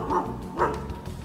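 A dog gives two short barks close by, loud and distinct, with no speech over them.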